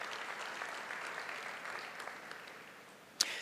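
A banquet crowd at a university awards dinner applauds to welcome the First Lady of the University of the Southwest, a steady, dense round of clapping that thins toward the end, with one sharp loud knock near the close.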